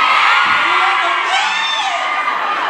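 A crowd of overseas Filipino workers in Hong Kong shouts and whoops loudly at a live variety event, a dense sustained roar of raised voices and cheering with little distinct clapping.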